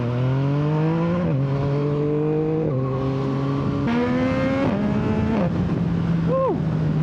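A Yamaha MT-09 motorcycle in full black with an Akrapovic exhaust accelerates hard through several gears, its engine note climbing and dropping with each shift, loud and close throughout.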